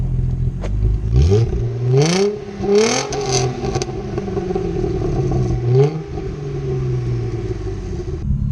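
An Audi A4 with its second muffler removed is revved several times in quick blips. Each rev brings a loud raspy exhaust rise over a rumbling idle, then the engine settles back to a steady burble, heard close with no talk.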